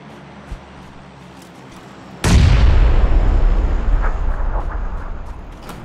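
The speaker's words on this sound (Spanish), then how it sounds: "Granada por aquí." A loud grenade blast in a PUBG-style battle royale shooter bursts suddenly and rolls on as a long, fading rumble over steady game ambience.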